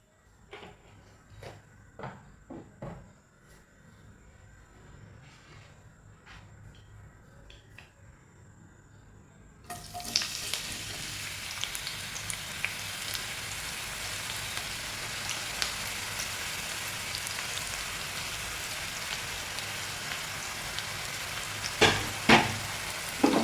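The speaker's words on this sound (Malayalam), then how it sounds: "ഒരു സവാള ഞാൻ അരിഞ്ഞു വെച്ചിട്ടുണ്ട് ഒന്ന് വറുത്തെടുക്കുക" Sliced onion frying in a pan for fish biryani: a few quiet clinks and taps, then a loud, steady sizzle with scattered crackles that takes over abruptly about halfway through.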